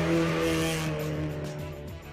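Ken Block's Subaru Impreza WRX STI Gymkhana car engine hums at a steady idle, fairly close and moderately loud, with a brighter burst of noise fading in the first second.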